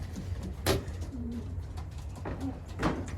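Racing pigeons in a loft give several soft, low coos, a few separate murmuring calls over a quiet background.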